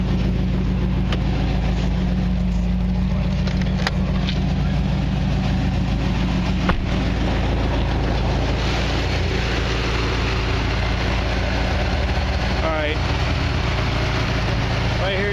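Supercharged 2002 Corvette Z06 engine running with the hood open, a steady loud idle drone held throughout, with faint talk over it.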